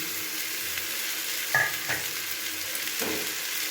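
Leftover rice is stirred with fried vegetables in a frying pan, a steady soft sizzle broken by about three distinct scraping strokes of the spatula, with no talk.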